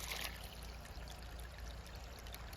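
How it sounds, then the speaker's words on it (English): Warm water is poured outdoors in winter in Maine, filling a backyard bird and squirrel feeder; a steady, faint trickling stream runs throughout with no talk. "here is where I'm pouring some warm water"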